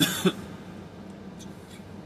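A man gives a single short, close cough at the very start, followed by quiet background room noise.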